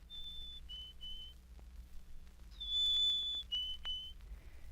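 Whistled imitation of a chickadee's song: a series of clear, high, pure tones, some sliding gently downward, with a louder sustained phrase in the middle. Whistled by a human, alone, with no talking.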